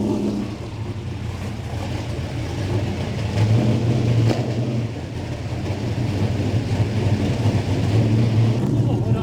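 A race car engine at a speedway idles with a loud, steady rumble and slight rises in revs, people talking nearby over the drone.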